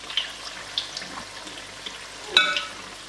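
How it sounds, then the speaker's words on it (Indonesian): Shrimp fritter batter frying in hot oil for Indonesian bakwan udang, a steady soft sizzle with light crackles and a brief louder burst of spattering near the end, no talking. "sisa udangnya 2 kita masukin ke bekas adonan itu, kita goreng deh"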